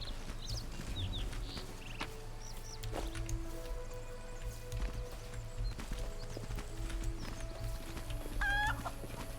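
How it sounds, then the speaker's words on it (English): Chickens clucking in the fantasy video game Pathfinder: Wrath of the Righteous, a few short clucks and calls over a steady low ambient hum, with horse hooves clip-clopping nearby and no talk. "There's chickens."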